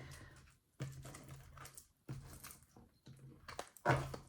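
Tarot cards being shuffled by hand, giving several bursts of crisp riffling clatter that come in separate rapid runs with short pauses between them, close and fairly loud.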